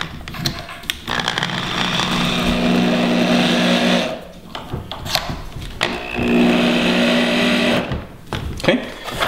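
A drill drives 1 1/4 inch screws into wood on a homemade king-size bed frame, two sustained whirring runs with a brief pause between and a few clicks at the end, loud and close.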